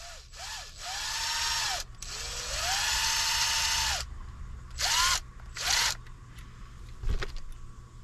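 A power tool whirs in several bursts while tightening bolts on an aluminum mount, winding up and holding steady for a few seconds at a time, with short pauses and a small metallic clank near the end.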